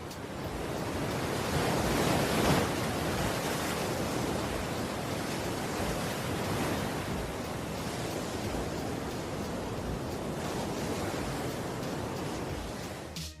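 Huge surf breaking at Jaws on the north shore of Maui beneath towering rocks, a continuous roaring wash of heavy waves with wind buffeting the microphone, loud and unbroken throughout.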